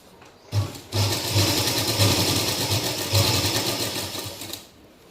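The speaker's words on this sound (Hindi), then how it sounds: "यहाँ किनारे किनारे पे सिलाई लगाएंगे" A sewing machine stitches along the edge of a palazzo, its fast rhythmic needle clatter running loud and close for about four seconds between short pauses at the start and end.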